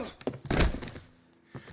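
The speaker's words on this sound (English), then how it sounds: "Just smash his head against the table." In the video game L.A. Noire, a head is smashed against a table, a heavy dull thunk landing hard with a couple of lighter knocks before it and a softer bump shortly after, close and without talk.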